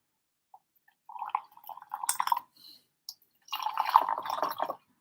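Water splashes and swishes over Mao Feng tea leaves in a vessel during a rinse, in two short bursts of soft wet clicks and trickles, close and fairly quiet, with no talk.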